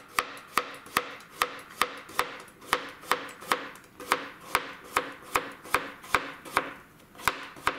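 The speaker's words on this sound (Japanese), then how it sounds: "ヘタを落としましたらできる限り薄く切っていきますね" Knife slicing cucumber thinly on a cutting board, a steady rapid series of sharp, close knocks with no talk.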